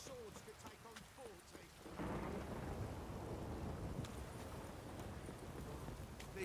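In the Witcher 3 video game, a downpour starts after a quieter stretch and swells into a loud, steady hiss of rain, with deep thunder rumbling underneath and faint voices present.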